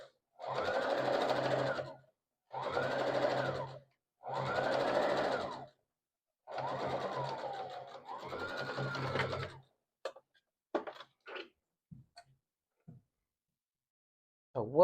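Sewing machine running a straight stitch on a multicolored blanket, in five steady bursts of whirring each about a second or two long, followed by a few faint clicks and handling sounds; close and fairly quiet.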